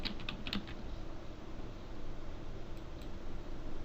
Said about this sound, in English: So if I type in science fiction,